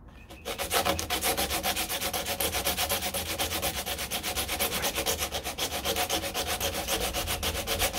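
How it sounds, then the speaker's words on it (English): Sanding body filler on the door of a 1969 Corvette C3: a loud, close, continuous scratchy rasp that starts after a brief quiet moment, with fast regular back-and-forth strokes and no talking. "Just gotta sand this down to where it has some grip."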